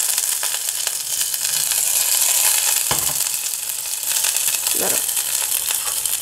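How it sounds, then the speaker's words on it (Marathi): Onion sizzles in hot coconut oil with curry leaves, a loud, steady crackle with a couple of short stirring scrapes partway through. "मग आपण थोडा कांदा घालूया त्याच्यामध्ये."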